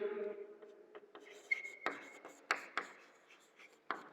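Pen scratching on paper while writing out a chemistry electron configuration, a series of faint, close strokes and taps with short pauses in between.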